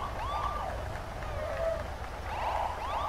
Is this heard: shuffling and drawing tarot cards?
no